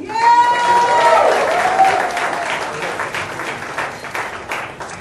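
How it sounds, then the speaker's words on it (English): A fashion week crowd at an India luxury style event breaks into loud, close applause. Dense clapping fills the stretch and fades a little toward the end, with a voice talking over the start. "I think this guy deserves another round of applause."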